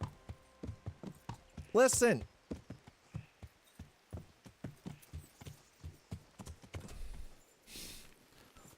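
Horse hooves clip-clop at a steady walking rhythm throughout a Kingdom Come: Deliverance game scene, with a louder vocal burst near the start and a voice speaking over part of it.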